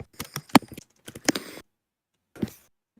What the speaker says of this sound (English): Now everyone can hear your typing.